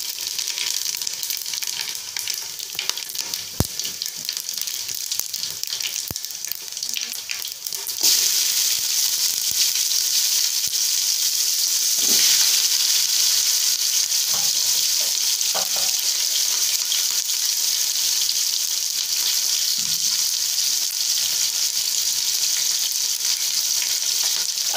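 Chicken biryani frying and sizzling in a pot, stirred with a spoon, a steady loud hiss with occasional scraping and clinks of the spoon.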